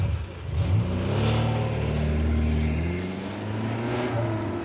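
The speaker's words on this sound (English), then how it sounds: "The CRX HF from Honda." A Honda CRX HF car engine revs steadily and loudly, a mid-pitched motor rising and holding through the whole stretch with no voices.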